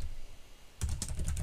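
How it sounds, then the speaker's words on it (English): Rapid keystrokes on a computer keyboard begin after a short quiet pause, a close run of crisp clicks while a formula is entered in data software, with no talking. "I can start typing now."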